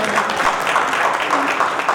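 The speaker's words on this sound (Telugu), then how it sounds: "నా చప్పట్లు పడతలేదండి." An audience claps at a Lions Club Fort City installation ceremony, a dense, steady patter of many hands that holds at an even level for two seconds with a voice faintly underneath.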